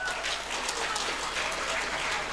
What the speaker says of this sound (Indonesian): Kita beri tepuk tangan buat Usman SPD